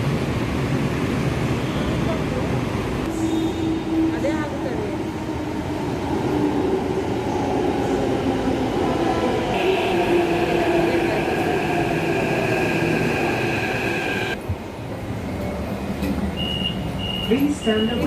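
A train pulls into a station platform with a steady rumbling roar, brakes and wheel squeal rising over the crowd noise, joined near the end by high electronic tones, with people talking faintly in the background.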